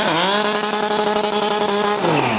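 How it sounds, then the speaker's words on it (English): A BMW stunt motorcycle with 160 horsepower holds a loud, close, high engine whine with steady harmonics, then the pitch drops sharply as the rider eases off to brake while turning. "as that bike just kind of starts to come around, he just gives it a little bit extra throttle, lets the clutch out a little bit, or uses the brake"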